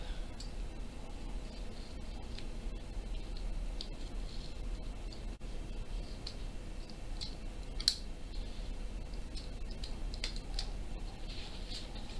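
A razor blade slices along the wooden lip of a 2020 Mountain Banjo kit, giving faint, steady scraping with scattered small clicks and one sharper tick near the end, close by and quiet.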